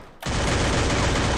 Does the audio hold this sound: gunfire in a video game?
yes